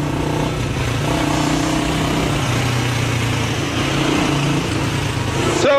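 A motorcycle engine runs steadily and close on an Iranian street, a loud continuous rumble with slight rises in revs and no voices over it.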